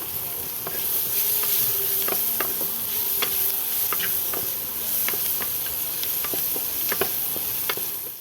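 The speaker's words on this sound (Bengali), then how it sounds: "একটা বড় সাইজের পেঁয়াজ আমি কুচিয়ে নিয়েছিলাম, পেঁয়াজটা আমি দিয়ে দিলাম।" Chopped onion sizzles and fries in a hot pan for shahi paneer, a steady hiss with intermittent stirring scrapes and clicks, close and continuous.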